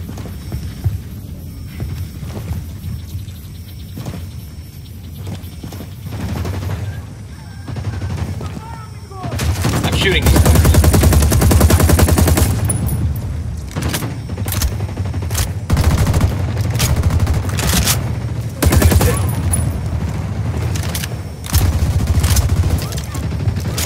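Heavy gunfire in a Ghost Recon Wildlands firefight as Sicarios shoot at an emitter, with dense bursts and booming shots over a low hum, loudest in a sustained fusillade midway; players talk over it.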